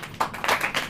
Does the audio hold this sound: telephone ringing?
no